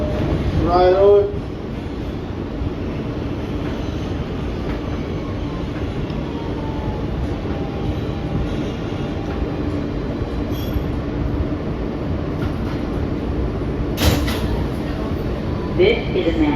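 On board an NYC Subway R160B Siemens E train near Briarwood, a sharp wheel squeal rises at the start over a steady heavy rumble, with clatter and another squeal near the end, and indistinct voices underneath.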